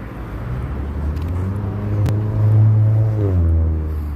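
A Zipcar rental car passes on a Chicago street, its engine hum rising and swelling close by, then easing off, with steady city background and no talk.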